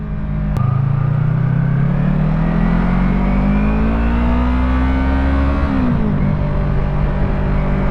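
A motorcycle, a Yamaha R3, riding through city traffic, its engine loud and close, pitch climbing steadily as it accelerates, then dropping sharply at a gear change before settling again.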